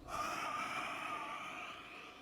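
Slow, steady breath drawn in and let out during an intermediate athletic yoga session, close and fairly soft, a single long airy exhalation filling the moment with no talking.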